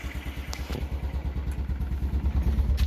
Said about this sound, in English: Okay, we got it running, idling.